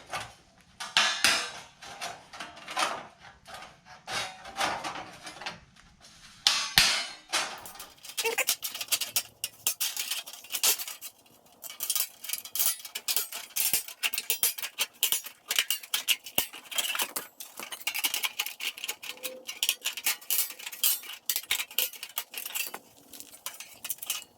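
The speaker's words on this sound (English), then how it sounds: "this stainless is actually pretty thin, so I'm actually just gonna use tin snips and hopefully be able to cut through this" Tin snips chopping through thin stainless steel for an exhaust valve, a series of irregular sharp metallic snips and clinks close up, with occasional handling clatter.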